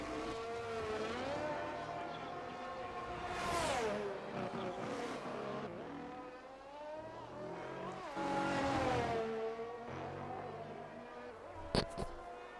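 F1 car engine on a flying lap around Imola in the F1 23 racing game, a loud high-pitched whine rising and falling through gear changes and braking zones, with a short sharp click near the end.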